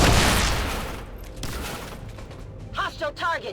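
A pistol shot in the video game XCOM 2 War of the Chosen, one loud crack right at the start decaying into a rumbling tail, followed by a brief voice at the end.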